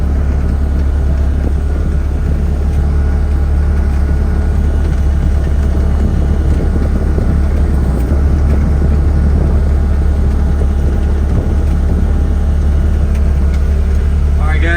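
A Wolf Mini 780H Chinese wheel loader drives forward with a pallet of about 2,400 pounds, its engine giving a steady, loud low rumble throughout with little change in pitch.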